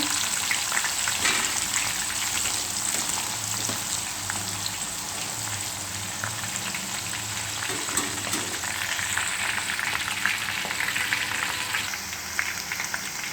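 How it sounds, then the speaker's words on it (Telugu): Eggplant pieces fry lightly in hot oil, giving a continuous, even sizzle with soft crackles and occasional stirring noises, close and steady with no talking. "ఇప్పుడు ఈ వంకాయ ముక్కల్ని ఆయిల్లో వేసుకుందాం వేసుకొని లైట్గా వేయించుకోవాలి"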